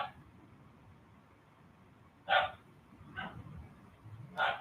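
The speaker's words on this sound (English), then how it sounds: "If you can hear that, it's just my dogs playing." Dogs playing nearby give short yips and barks, three separate bursts spread across a few seconds over a quiet room background, with no voices.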